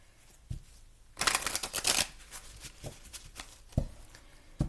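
Tarot cards are shuffled by hand. A soft tap is followed by a loud, rapid riffle of flicking cards lasting about a second, then several quieter taps and shuffles spaced apart.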